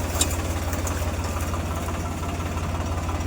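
A tractor engine chugs steadily on a rough road with a low, rhythmic throb and rattling knock, close and continuous throughout.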